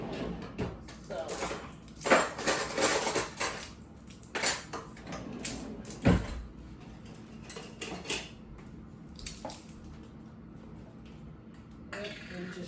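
A knife chops store-bought minced garlic while collard greens are being cooked. Irregular, fairly soft taps and clinks come in uneven bursts, with a few sharper knocks and short pauses between them.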